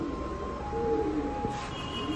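Pet pigeons coo softly in a short, close burst of low throaty calls over a steady background hum, with no talking.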